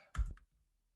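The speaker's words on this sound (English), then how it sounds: "Yeah, good typing." Typing on a computer keyboard: a brief cluster of two or three soft clicks close by, then quiet.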